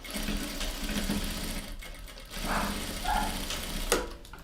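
Sewing machine stitching the lining of a men's briefcase, a close, steady mechanical whirr with a brief pause midway and a small clack near the end, no talk.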